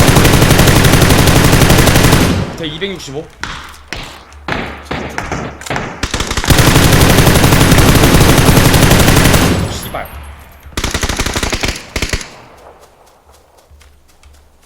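Gunfire in PUBG (Battlegrounds): loud, dense automatic bursts fill the first couple of seconds and return in heavy stretches later, broken by sharper scattered shots and thuds, with a player's voice briefly over the action.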